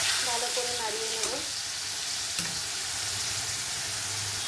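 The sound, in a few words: stirring cumin powder into frying chicken mince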